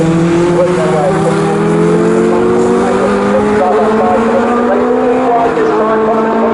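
Legends race cars during a National Championship heat at Snetterton circuit: several engines scream loudly and steadily close by, their pitch sliding gradually upward, while a commentator talks over the racing.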